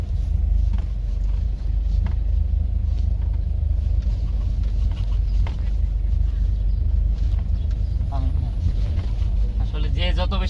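A car in second gear during a driving lesson produces a steady low engine and road rumble throughout, with people talking over it.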